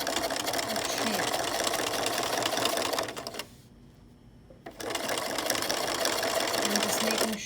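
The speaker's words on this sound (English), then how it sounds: "I'm just making sure that I'm sewing it right on that guide right there." Sewing machine stitching old trampoline fabric for a patio chair seat, a loud, steady motor whir running close and continuous, stopping briefly for about a second midway before resuming at full pace.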